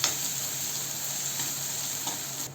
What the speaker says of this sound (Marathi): इथे कांदा आपला परतून झाले